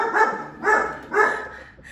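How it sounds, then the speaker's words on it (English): A dog barks three times in an even rhythm in an artist's studio, each bark loud and close with a short gap between, with no voices. "actual dog barks?"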